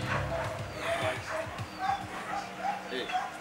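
A four-month-old German Shepherd puppy at a military dog test yips, whimpers and gives short barks in a quick, uneven series, close by, with people talking over it.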